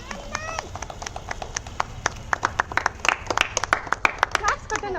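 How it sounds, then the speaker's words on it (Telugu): Family members clapping for their mother during birthday wishes, a close run of sharp, uneven handclaps that builds and quickens, with voices speaking at the start. "క్లాప్స్ కొట్టండి అమ్మకి."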